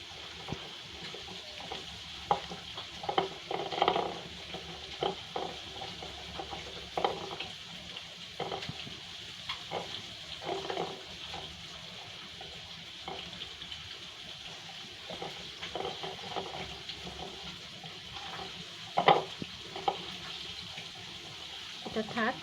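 Quiet frying sizzle of rohu fish in a pan runs beneath scattered clinks and scrapes of a utensil, with occasional voices in the background; close and fairly soft.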